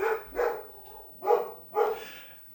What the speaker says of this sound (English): that dog bark signals a fast fact or a trivia